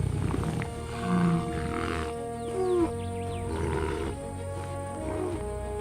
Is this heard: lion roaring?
yes